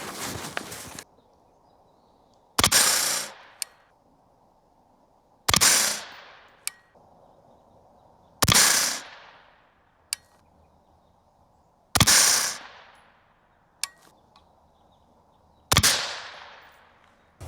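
Six sharp, loud 5.56 rifle shots fire one at a time about every two to three seconds during a load group test with Varget powder and 77-grain Sierra MatchKing bullets, each blast ringing out into a long decaying echo.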